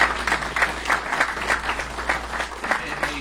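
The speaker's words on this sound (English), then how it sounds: "I'd like to give Pat a round of applause." Audience applause at a Lehigh Valley IronPigs stadium funding event, a steady burst of clapping from a crowd lasting the whole stretch, moderately loud and close.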